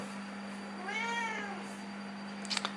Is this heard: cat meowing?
yes